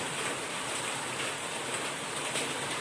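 Heavy downpour in Talwade, a steady, even hiss of rain falling on surfaces, continuous and dense with no pauses.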